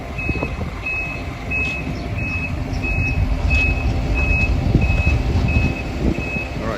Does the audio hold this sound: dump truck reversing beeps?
yes